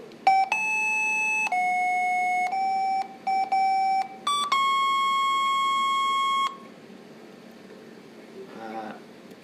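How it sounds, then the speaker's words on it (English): A simple computer music program rendered as audio with JavaScript and the Web Audio API: a series of pure synthesized electronic tones in short stepped notes and a longer held note, loud and clean, ending abruptly into quiet. "take this simple music program and turn it into audio that we can hear using JavaScript and Web Audio API"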